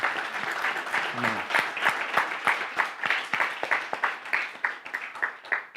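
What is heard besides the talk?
applause in church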